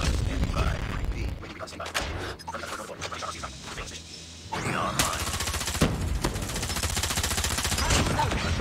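Rapid M13 automatic gunfire in a shooter video game, dense sustained bursts with a brief lull mid-way before heavy firing resumes, loud and close.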